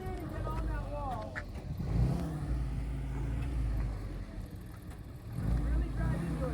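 Antique Jeep engine revving in low-range surges as it climbs onto a rock wall in Pritchett Canyon, loud and close, rising and falling with throttle while a spotter calls directions over it.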